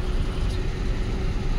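Steady low rumble of idling cars, buses and trucks stuck in a long roadside traffic jam, a continuous near engine drone with a faint hum and no distinct horns.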